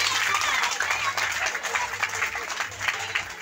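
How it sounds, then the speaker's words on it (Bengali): An audience clapping together at a kirtan gathering, a dense burst of hand claps over a few seconds with a voice speaking over it. "এই যে প্রত্যেকে একবার একসঙ্গে তালি দিন তো দেখি"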